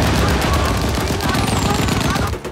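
Heavy machine-gun fire from a Sherman tank in a WWII battle against an SS battalion, a loud, dense, continuous rattle of rapid shots with a shouted voice mixed in.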